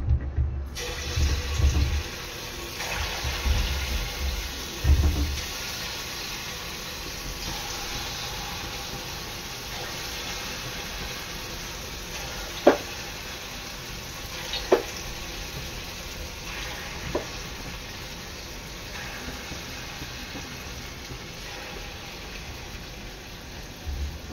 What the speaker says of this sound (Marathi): आता मी जसे आपण भजी तेलात सोडतो तसे आपले गुलगुले पाण्यात सोडायचे आहेत, तेलात सोडायचे आहेत।